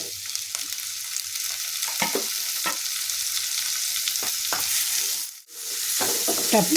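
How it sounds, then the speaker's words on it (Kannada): Tomatoes fry in a pan for moringa leaf palya, a steady broadband sizzle running throughout with occasional scraping stirs of a utensil and a brief dip near the end, with no voices. "ಟೊಮೆಟೊನು ಸ್ವಲ್ಪ ಬಾರ್ದು ನೋಡಿರಿ"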